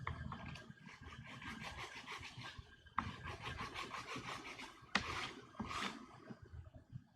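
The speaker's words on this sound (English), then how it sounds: "Sanding to make things flat, get on a flat surface." Hand sanding of a part for a Mandalorian armor right leg build, rubbed back and forth on a flat surface, producing steady rhythmic rasping strokes, close and fairly quiet, with short breaks between passes.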